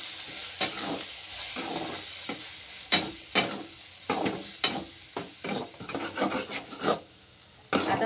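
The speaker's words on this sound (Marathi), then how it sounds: "आता छान असं मिक्स करून घेते सगळं." Egg bhurji being mixed in a pan gives close, irregular scraping and rubbing strokes from a spatula against the pan over a soft sizzle, with a dozen or so quick bursts and short pauses.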